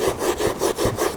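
A stiff carpet brush scrubs back and forth over a stained car floor carpet during interior detailing, giving five or six rhythmic, close, loud rasping strokes with no talking.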